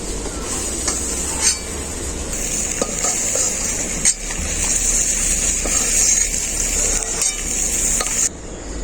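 Prawns frying in oil in a pan crackle with a continuous bright sizzle, broken by repeated clinks and scrapes of a utensil against the metal as they are lifted out.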